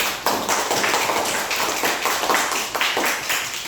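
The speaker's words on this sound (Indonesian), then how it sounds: "Kita tepuk tangan." Children in a classroom clap their hands together, a close, loud, uneven patter of quick claps that goes on steadily with no talking over it.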